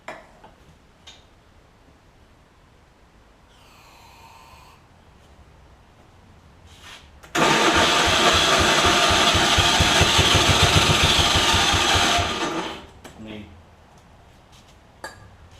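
A John Deere AMT600 Gator engine with fuel-line and carburetor trouble is cranked over, a rapid rhythmic churning burst of about five seconds that stops abruptly, with quiet handling noises and faint clicks around it.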